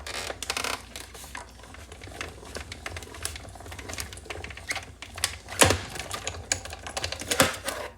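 A hand-crank die-cutting machine pulls a paper piece through, making a steady run of close, dry clicking and rattling with a couple of louder clunks near the end. No one speaks.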